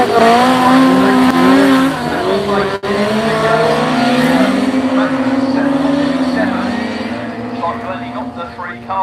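Race car engines roar loudly at the start of a BAS 2021 finals race at Scunny, their pitch climbing and shifting as the cars rev and pull away together in a dense, continuous wall of sound.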